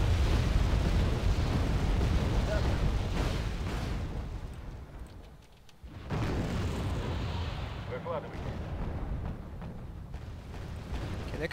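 Artillery fires in the video game Wargame: Red Dragon. Rolling, rumbling booms and blasts fill the scene, dip briefly into a short lull, then surge back.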